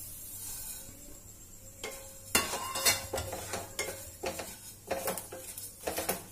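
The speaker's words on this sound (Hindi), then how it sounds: "ये आवाज आने लगी तड़कने की, मतलब कि ये अपना मसाला भून गया है" Cumin, fenugreek and fennel seeds dry-roasting in a wok on a gas stove, with sharp scattered crackles and pops over a low hum, close by and moderately loud.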